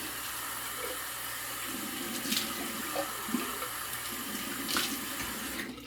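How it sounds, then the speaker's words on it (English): Cold water runs steadily from a tap to rinse shaving razors, a continuous close hiss and splash with faint clinks of metal in the stream, and no voices. "let me go ahead and cold water rinse"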